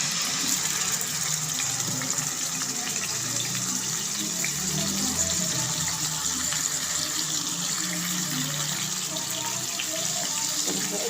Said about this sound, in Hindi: अब इसमें चिकन डाल देते हैं